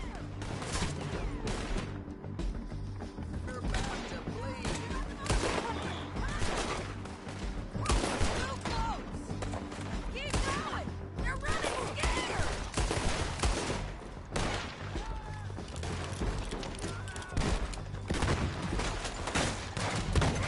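Repeated shotgun blasts and wider gunfire in a roleplay video game, a dense, loud fusillade running the whole time over game noise, with a voice briefly in the mix.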